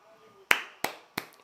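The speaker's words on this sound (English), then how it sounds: "I'm going to give you your golf clap." Three slow, sparse claps for a losing football team, evenly spaced about a third of a second apart, close and sharp, with no talk over them.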